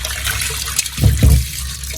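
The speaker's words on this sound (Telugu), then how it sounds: "ఇలా కందిపప్పు పెసరపప్పుని శుభ్రంగా కడిగి పెట్టుకోవాలి" Toor dal and moong dal are swished and rinsed in water, giving a couple of close, loud sloshing splashes over a short stretch with no speech.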